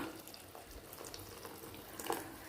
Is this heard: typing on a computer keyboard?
no